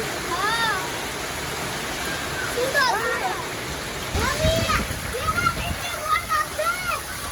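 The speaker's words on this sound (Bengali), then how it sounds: "এত শিলা বৃষ্টি হতেছে" Hail pours down onto and into a veranda in a dense, steady clatter and rush, while several voices, including a child's, talk over it.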